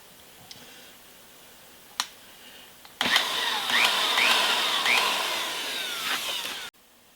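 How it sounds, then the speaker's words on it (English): A bigger power drill whirs steadily for a few seconds, boring holes for threaded inserts in an oak log, after a couple of sharp knocks, close by, then stops abruptly. "Bigger drill."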